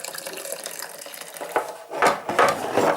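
Very hot water poured into a metal Coopers Dark Ale home brew kit can, a splashing, gurgling pour that builds from a thin trickle to louder bursts toward the end, close and with no talk.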